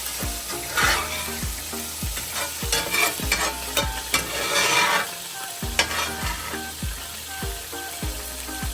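Eggs sizzle and fry in a pan while being stirred, with a utensil scraping and tapping the pan in a regular rhythm over a constant loud crackle. The sound is close and busy.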